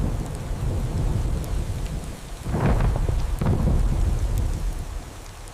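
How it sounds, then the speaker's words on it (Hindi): Steady monsoon rain pours down on a village, joined by rolling thunder that swells into a louder rumble partway through. "गांव पर बारिश बरस रही है।"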